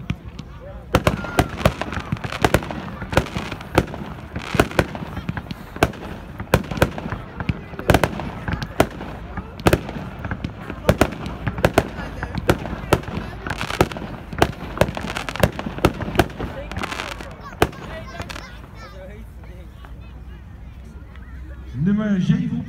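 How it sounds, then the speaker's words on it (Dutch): A Psycho 16-shot fireworks cake fires at a Berkel fireworks show, sending a rapid, irregular run of loud cracks and bangs that ring out over roughly twenty seconds before fading, with voices in the background. "nummer 6 op de schietlijst, de Psycho, 16 schot cake"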